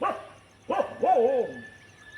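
A dog gives two short, fairly quiet barks with tonal, slightly whining edges, a brief gap between them, heard close by in a quiet outdoor setting.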